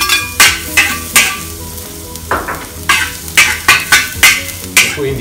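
Garlic added to hot oil in a pan sizzles loudly, broken by a rapid series of sharp clanks and scrapes from a spatula stirring against the pan, with no talking.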